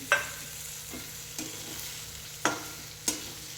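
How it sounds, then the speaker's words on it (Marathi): Bitter gourd cooks in a kadhai with a low sizzle underneath and a few sharp clanks and scrapes of a utensil, spaced irregularly, close by. "आता मी कारले कढईमध्ये टाकत आहे"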